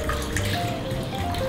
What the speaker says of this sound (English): Abby, please pour in the milk